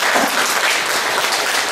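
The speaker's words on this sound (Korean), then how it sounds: "박수 한번 쳐주시겠어요?" Church congregation clapping in a sanctuary, a loud, dense wash of many hands sustained evenly throughout, with no speech over it.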